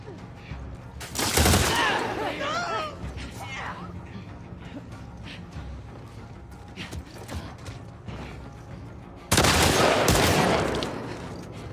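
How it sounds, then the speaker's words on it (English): A double-barrel shotgun fires in The Last of Us Part 2: two loud, sharp blasts several seconds apart, with clicking and creaking reload mechanics and a faint voice in between. "as ever with a double barrel shotgun in any game, it gives you a lot of power, but only 2 shots"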